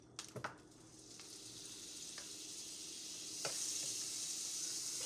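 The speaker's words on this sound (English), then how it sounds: "Now I'm adding a tablespoon of butter in this same" A tablespoon of butter sizzling in a frying pan used for pork chops, starting with a few small clinks, then a steady, rising hiss that holds to the end, fairly faint, with no talking.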